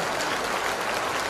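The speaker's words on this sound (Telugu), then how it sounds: "గురువు గారికి కూడా మనం చప్పట్లు కొట్టాలా వద్దా?" Dense, steady applause from an audience clapping for a teacher at a public gathering attended by BRS MLA Harish Rao, filling the whole moment evenly without pause.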